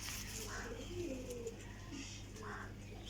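Teddy pigeons in breeding pairs coo in soft, low, rolling calls that recur a few times amid a steady background hum.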